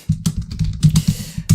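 Quick bursts of close, clicky keystrokes on a computer keyboard, irregular in rhythm with short pauses, loud and alone with no talk.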